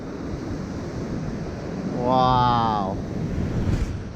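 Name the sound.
ocean waves breaking while a drone flies over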